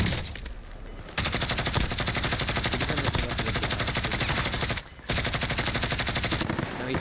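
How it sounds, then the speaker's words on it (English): Sustained automatic gunfire in a multiplayer shooter as a player fires at an airborne enemy, dense and loud rapid bursts running nearly continuously, briefly dropping out twice. "I'm gonna shoot this guy out of the air real quick."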